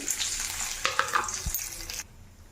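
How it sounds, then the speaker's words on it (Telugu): Chana dal and urad dal frying in a little oil in a pan, a soft steady sizzle with faint stirring clicks that stops abruptly near the end. "కొద్దిగా ఆయిల్ వేసుకున్న తర్వాత శనగ బ్యాలు ఉద్ది బ్యాలు మనం తీసుకున్నాం కదా టూ టేబుల్ స్పూన్స్ అలా అవి వేసుకోవాలి"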